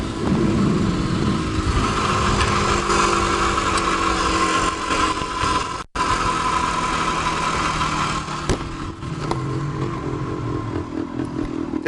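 A 1974 Yamaha DT250 two-stroke motorcycle putters along a road, its engine an unstrained, steady mid-pitched drone with wind rush. A brief dropout comes midway before the running continues evenly.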